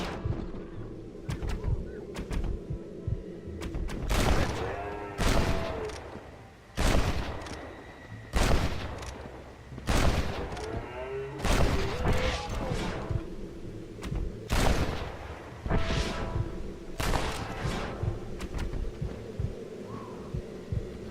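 Gunfire in the game Red Dead Redemption rings out in about a dozen loud, sharp shots spread unevenly over a low rumbling ambience, with a few shots close together.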